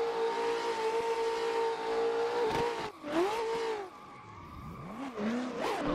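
Tires of a BMW E36 pro drift car skid and squeal on a mountain road as its front brakes lock up, a loud engine drone dipping and then swooping into a wavering screech near the car.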